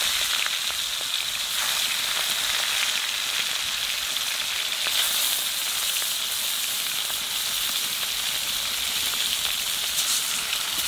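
Fish frying in a pan, cooked ahead of a taro leaf curry with hilsa fish heads, gives off a steady, dense sizzle that holds even and unbroken for the whole stretch, with no talking over it.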